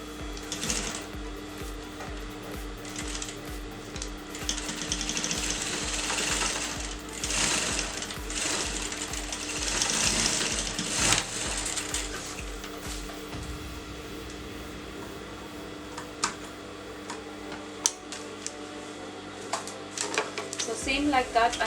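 A sewing machine runs in steady bursts while blouse fabric is fed through it bit by bit, the motor's whirring and needle clatter starting and stopping, with occasional light clicks nearby.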